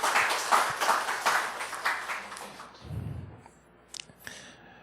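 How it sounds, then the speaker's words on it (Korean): A church congregation at a Sunday worship service claps in encouragement, a brisk burst of many hands that fades away after about three seconds, leaving faint scattered sounds. "우리 서로의 격려의 박수 한번"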